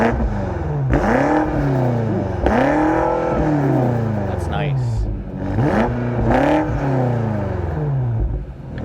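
A 2020 BMW X6 M Competition is revved repeatedly from outside, with several sharp blips that rise and fall in pitch in a rhythmic series. The rev bursts are loud and close, with a brief crackle between them.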